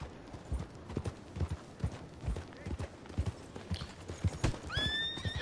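Horse hooves clip-clopping in a steady rhythm in the Red Dead Online video game, followed by a loud horse whinny near the end, with some quiet talk alongside.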